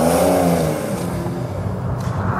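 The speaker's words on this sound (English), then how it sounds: "There's still that guttural flat six roar that flares briefly and then settles down to the usual pulsing beat." A 2019 Porsche 911's flat-six engine roars up loudly close by, the note flaring briefly then settling into a steadier pulsing rumble.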